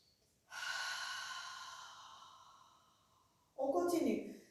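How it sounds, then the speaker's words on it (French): A Pilates breathing exercise done standing: one long, close nasal inhale hisses steadily for about three seconds and fades, followed by a shorter, louder burst of breath. "Encore une fois, inspirez par le nez."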